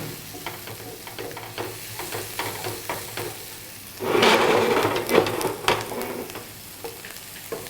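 Food frying and being sautéed in a pan, quiet sizzling with regular scraping stir strokes, then a louder surge of hissing and clatter midway before settling back to gentle stirring, close by.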